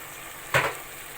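Bell peppers dropped into a pan of frying chicken shawarma and tomatoes set off a single short burst of sizzling that quickly settles back into a low hiss.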